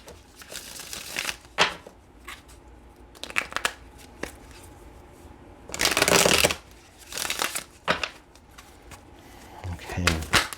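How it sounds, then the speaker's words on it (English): Tarot cards are shuffled in bursts of crisp riffling and flicking, separated by quieter pauses, up close, with a person speaking softly between the shuffles. "One more shuffle after this."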